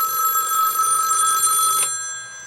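Red telephone ringing on a home lab T1 phone line, a steady electronic bell ring that carries loud and clear for most of the clip before cutting off, with no talking.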